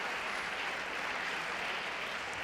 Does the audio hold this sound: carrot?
no